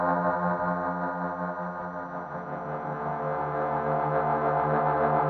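A sustained Hydrasynth synthesizer drone with rich harmonics, its pitch and tone wobbling irregularly from a random LFO throughout, steady and loud with no voices.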